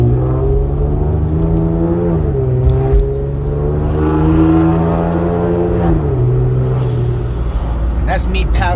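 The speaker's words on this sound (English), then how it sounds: "Listen to that turbo spool down" A paddle-shifted car fitted with PPE catless downpipes drones loud and steady, with the pitch stepping down through gear changes. A brief whooshing turbo spool-down can be heard near the end.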